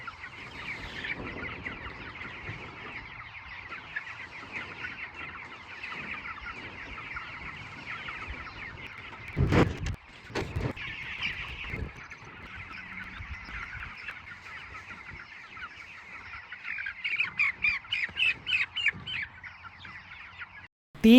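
Chickens on pasture cluck and squawk steadily throughout, with a busy flock chattering close by, a sharp louder burst midway and rhythmic pulses near the end.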